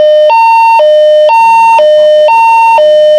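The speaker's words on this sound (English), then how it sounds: "This is what the panic button sounds like." A dispatch software panic button alert alternates between two high tones in a steady, rapid hi-lo pattern, repeating insistently like a siren with a low background hum.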